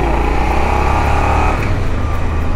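A car engine in a racing video game revs loud and steady, holding a strong droning pitch that shifts slightly partway through, with no talking over it.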